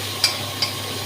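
Pointed gourd (parwal) frying in plenty of oil, a steady close hiss of sizzling with two soft clicks of stirring, no voices present.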